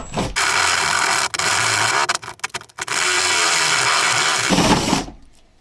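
A power drill boring a 1-1/8 inch hole for a fitting in an off-grid cabin: loud, steady whirring in close bursts, broken by a few brief stops and stutters before the motor cuts off.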